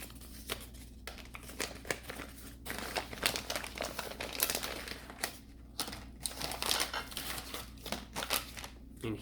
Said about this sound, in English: And we'll take it out of its little wrapping.